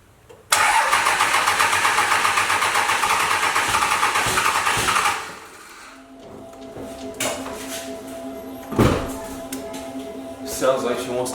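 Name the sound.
Cummins diesel truck engine starting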